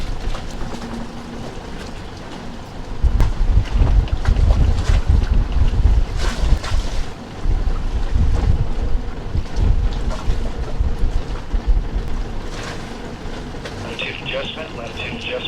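Gusty wind buffets the microphone in heavy low rumbles over a rough outdoor background on a boat in the Bahamas Exumas, with faint voices speaking intermittently beneath it.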